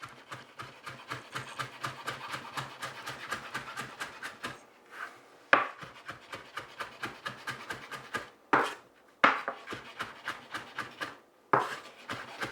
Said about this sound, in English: And we're going to chop this.